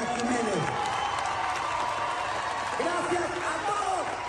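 A live audience's ovation for a singer rolls on as sustained applause and crowd noise, with cheering voices rising and falling across the whole stretch.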